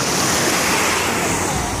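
Steady rushing surf of sea waves washing onto a crowded beach at Rafailovichi, loud and continuous with some wind noise, no talk.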